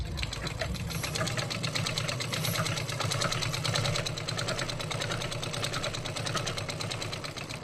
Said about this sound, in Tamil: இப்போ ஒரு லைன் வந்து ஸ்டிச் பண்ணியாச்சு இல்லையா?